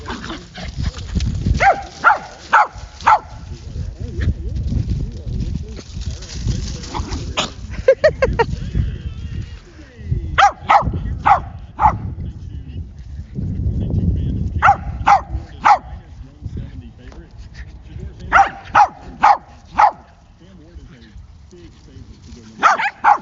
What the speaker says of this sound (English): he's steady barking, thinking we're going to throw his toy for him